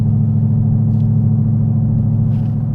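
Ford Mustang GT with a Flowmaster Scavenger exhaust cruising at 65 mph in tenth gear, a steady low droning rumble at low RPM, constant and close inside the cabin.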